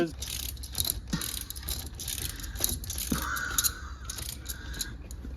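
A cheap Temu torque wrench ratcheting, rapid repeated clicking of the pawl mechanism at close range under a busy background, with a voice heard briefly.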